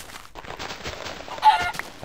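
A quick Minecraft chicken cluck rises out of soft, rustling game ambience near the end of a brief moment, close and fairly loud, with no talking.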